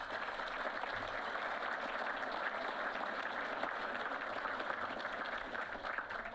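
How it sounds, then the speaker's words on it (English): A large crowd applauding steadily at an awards ceremony, dense continuous clapping that holds at an even level throughout. "Let's give him a big round of applause."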